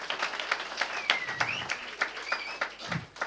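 Audience clapping for a Yakshagana dance-drama troupe at a community association's 60th anniversary celebration, a loose patter of claps that rises and thins over a few seconds, with a faint voice in the background.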